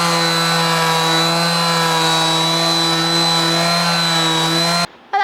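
A power sander with coarse sandpaper works wood on a narrowboat, a steady loud whine with droning motor tones that runs without a break for nearly five seconds, then cuts off abruptly.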